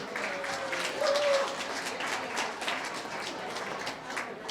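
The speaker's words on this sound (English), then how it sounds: "You should give yourselves a round of applause for coming out tonight." An audience applauds at a singing competition, a dense wash of clapping heard from within the crowd, steady and moderately loud throughout.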